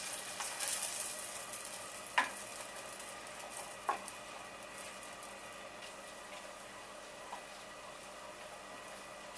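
Butter and a teaspoon of vanilla extract heat in a saucepan with a soft, quiet sizzle, broken by a few sharp clicks of a little spoon against the pan.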